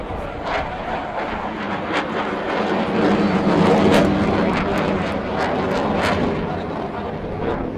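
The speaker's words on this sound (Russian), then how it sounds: "Сейчас в небо поднимется французский многоцелевой истребитель с высоким уровнем маневренности." A French Rafale multirole fighter jet takes off at the Dubai air show, its loud engine roar swelling toward the middle and then holding steady, with sharp crackling bursts over the broad, continuous rumble.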